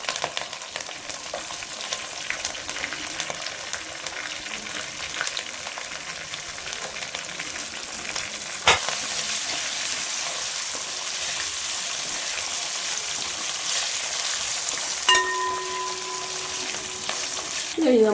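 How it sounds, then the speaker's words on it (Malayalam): Ginger, garlic and curry leaves sizzle steadily in a hot pan for a Kerala cooker chicken, a continuous close frying hiss with a sharp burst midway and a brief scraping clatter near the end. "അതിനകത്തേക്ക് നമ്മുടെ ഇഞ്ചിയും വെളുത്തുള്ളിയും കറിവേപ്പിലയും കൂടി ആദ്യം ഇട്ട് കൊടുക്കാം."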